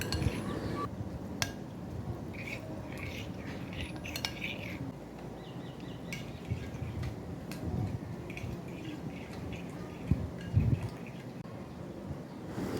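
A spoon clinks lightly against a pot as cornflour slurry is stirred into Thai soup ingredients. Sparse, faint, irregular taps sound over a low background.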